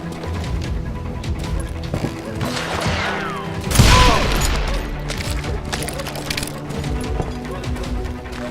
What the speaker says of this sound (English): So much lead was whizzing by my head, it was like everyone in Lincoln wanted to put me in the ground.